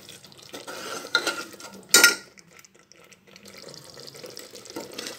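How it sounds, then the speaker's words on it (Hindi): Spices for rajma masala are stirred in a pan on the stove, giving soft scraping and clinks of a spoon against the metal, with one sharp clatter near the middle over a low background sizzle. "ये सारे मसाले भुन रहे हैं"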